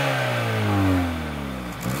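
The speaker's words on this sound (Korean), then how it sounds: "낮은 배기량에서 배기음은 들리긴 하는데" A Hyundai Sonata N Line accelerates with a steady, rising engine and exhaust drone heard close from inside the car, smooth with no pops, and no one speaking.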